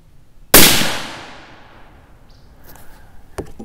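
A single sharp, loud crack from a .280 Ackley rifle firing a 145gr Barnes LRX bullet, decaying over about a second and a half, followed by faint small clicks.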